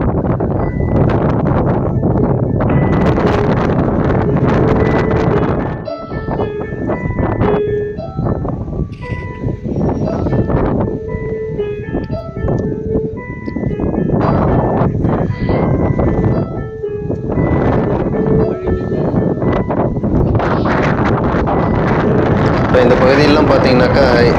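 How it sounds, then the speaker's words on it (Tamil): Strong wind gusts buffet the microphone high on the Velliangiri hills, a loud continuous roar with surging bursts, while people talk throughout. "அந்த அளவுக்கு காற்றினுடைய வேகம் ரொம்ப பலமாக இருந்தது"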